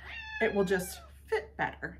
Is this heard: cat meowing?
yes